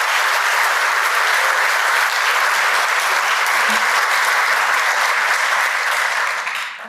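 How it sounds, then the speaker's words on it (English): Loud, dense applause from a large audience at a talk, steady and sustained, tapering slightly at the very end with no voices. "I think a round of applause to just recognise."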